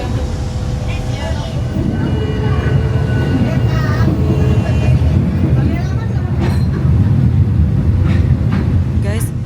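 Passenger train on the only railway in Sabah, running through jungle and along the coast: continuous loud low rumble of the carriage in motion, with muffled voices inside.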